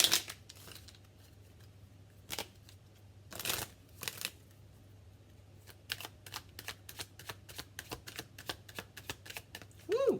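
Tarot cards being shuffled and tapped in crisp, short riffles and flicks, close and quiet, with a soft steady hum underneath and a run of quick card snaps toward the end.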